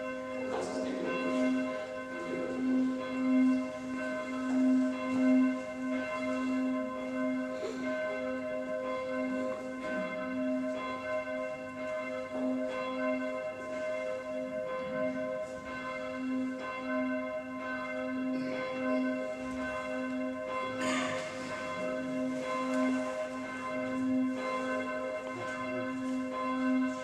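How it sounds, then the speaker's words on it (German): The Marienglocke of St. Josef church, tuned to C2, rings on alone in slow steady strokes, each bright metallic strike blooming into a long humming resonance that hangs and overlaps. "ist die Marienglocke mit dem Ton C2 und der Inschrift Hoch preist meine Seele den Herrn"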